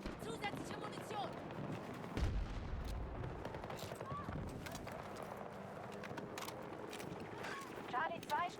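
Battlefield 2042 combat with dense, continuous gunfire and heavy artillery blasts rumbling under radio chatter and voices, a strong low boom near the two-second mark and crackling shots throughout.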